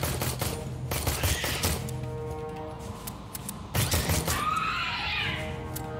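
Pistol gunfire in Aliens: Colonial Marines, a few sharp shots scattered through a busy game soundscape with mechanical noises and a rising whine near the end.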